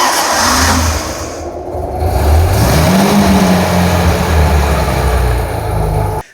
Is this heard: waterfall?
no